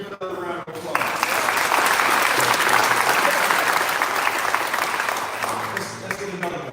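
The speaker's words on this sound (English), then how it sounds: "Give it another round of applause." Loud, sustained applause from the audience at a community briefing, building after a short pause into a dense wall of clapping, with crowd voices and some talk mixed in before it fades.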